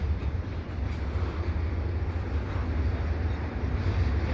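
A CPKC eastbound intermodal freight train passing the Dorval ramps in the evening, a steady loud low rumble and rolling wheel noise throughout, close by with no voices.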